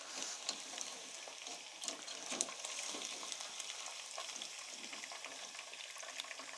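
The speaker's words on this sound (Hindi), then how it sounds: "इसको 3-3 4-4 पीस इसको फ्राई करके" Pieces of roast frying in hot oil for pulao, lifted in a strainer, a steady close sizzle with crackling bursts and occasional metal scrapes throughout.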